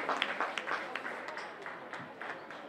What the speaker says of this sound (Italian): Accogliamola con un applauso per questa sua splendida gara